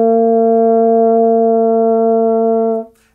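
A French horn holds a single sustained E for nearly three seconds, a steady, even tone with rich harmonics that cuts off cleanly at the end, played alone as a beginner's first-note example.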